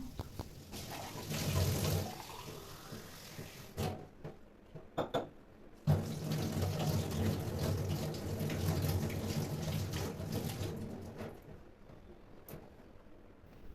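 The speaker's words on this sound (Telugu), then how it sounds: "ఇంకొక ప్లాంట్ ఉంది కదా సో దాన్ని కూడా వాటర్ చేంజ్ చేద్దాం అనుకుంటున్నాను" Water being poured and swirled while the water of a potted plant with white roots is changed at home, with splashing bursts, short clinks of a container, then quieter trickles.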